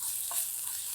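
Onion frying in a pan with chili powder, stirred on low heat: a steady soft sizzle with one brief scrape of the spoon, close and alone.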